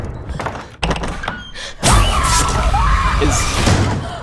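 In a Scream horror trailer, car door locks clunk shut with a sharp thump, followed by a loud, swelling dramatic rumble and tense music.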